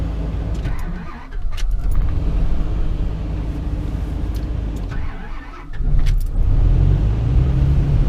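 A Dodge V10 truck engine running on wood gas starts up after a couple of cranking attempts, then settles into a loud, steady low rumble close by.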